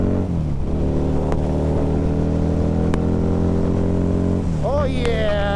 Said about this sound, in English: Listen to the V-Rod.